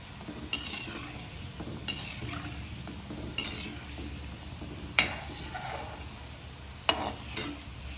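Jamnagar-style dry kachori deep-frying in hot oil makes a steady bubbling sizzle, with a few sharp clinks of a spoon or slotted ladle against the pan at intervals, and no talking.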